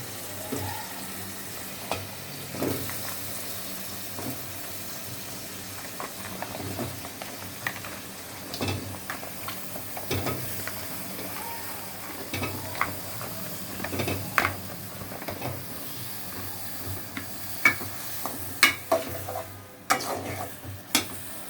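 Vegetables frying in a pan, a low steady sizzle broken by scraping, clattering stirs that grow busier and more frequent toward the end, with no talking.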